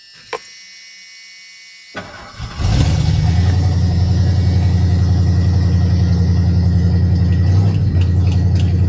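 1986 Ford F150 pickup with a poorly running engine, starting up: a short crank, then a loud, close, rough idle with a steady low throbbing pulse that continues to the end, no voices.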